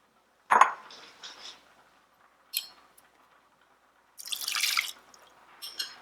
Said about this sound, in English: you're basically going to dump your chana dal into this, as well as your water.